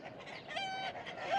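Farm hens and cockerels on a busy Kirkcudbright smallholding, a short burst of clucking and a crowing call, faint and a little distant, with no talk.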